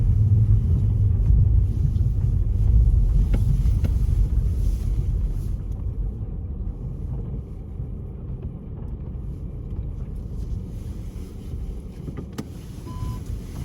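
A car drives slowly and turns around beside a small village cemetery in Iceland, its low engine rumble steady and close throughout with wind noise on the microphone and no talking.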